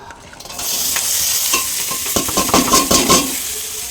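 Chopped chili, garlic, ginger, onion, tomato, cinnamon, cardamom and bay leaf fry in butter over low flame, a loud close sizzle building as a spatula stirs and scrapes repeatedly.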